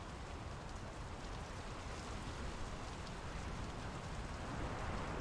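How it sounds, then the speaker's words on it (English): Steady rain falls in the video game Draugen, a dense, even hiss of drops on surfaces that runs unbroken and moderately loud throughout, with no voices. "The rain's picking up."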